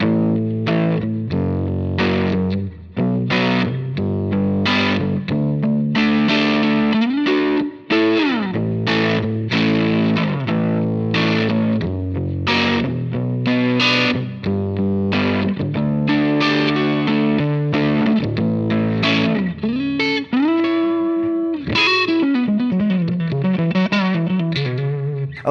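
Distorted electric guitar chords with chorus-like effects, played through a Line 6 Helix modeling a Vox AC15 amp on the Les Paul setting. Loud and continuous strummed chord changes ring out with some bends, ending on a sustained, wavering chord.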